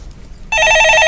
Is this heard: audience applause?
no